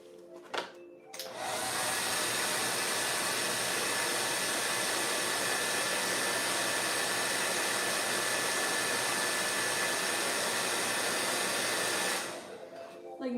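A hair dryer blows steadily for about eleven seconds while drying paint in layers, a loud, constant whooshing roar that switches on after a brief pause and cuts off near the end.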